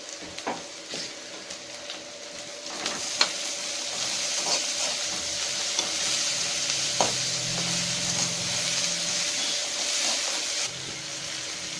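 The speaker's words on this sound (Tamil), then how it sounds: "அதையும் சேர்த்து நல்லா வதக்கிக்கலாம்." Onions and crushed garlic sautéing in a pan for potato kurma sizzle steadily nearby with intermittent clicks and scrapes of a spoon stirring, plus a low hum midway, with no voices.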